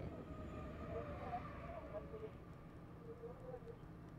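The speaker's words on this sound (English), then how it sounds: "Also worried they're by a train track." A train rolls past on a railway track inside a video game, a steady low rumble with faint squealing wheel tones, continuous and moderately distant throughout.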